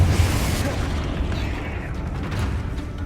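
Confringo blasting spell going off in Hogwarts Legacy, a dense rumbling burst that sustains as a loud, low, crackling roar through the whole moment, alone without talk.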